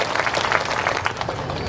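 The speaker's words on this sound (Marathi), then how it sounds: "एकदा जोरदार टाळ्या आपण सगळ्यांनी वाजवाव्या" Loud, sustained applause from a protest gathering of school nutrition workers, dense clapping filling the whole stretch with crowd noise.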